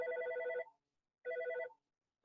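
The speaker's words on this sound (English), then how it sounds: "I'm very aware my phone is ringing in the background." A phone rings nearby during an interview, two loud electronic ring bursts separated by a short silence, with no talking over them.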